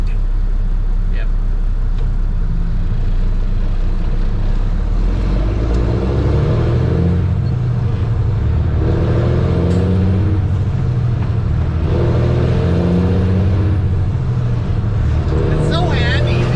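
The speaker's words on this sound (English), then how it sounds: "I really do love this truck. I love the bark." Pickup truck with a loud, barking exhaust, its engine rumbling steadily through the whole stretch with swells of revving, heavy low-end throb, and people talking over it.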